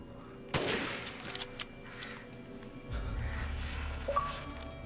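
Gunfire in the video game Resident Evil Village, a sniper rifle used on a distant enemy: one sharp loud shot followed by a few quieter cracks and game ambience, with no voices.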